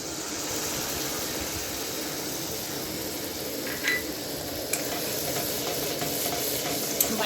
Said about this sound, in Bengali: পোস্ত বাটাটা দিয়ে একটু ভালো করে নেড়ে নেব